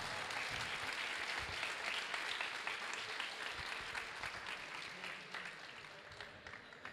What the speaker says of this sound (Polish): Wielkie brawa dla Leona Krysiaka za walkę.